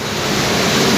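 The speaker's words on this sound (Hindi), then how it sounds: "ये यहाँ से पानी अंदर सक हो रहा है" River water rushes into the intake of a water mill, a dense, continuous roaring wash that is loud and close with no talk over it.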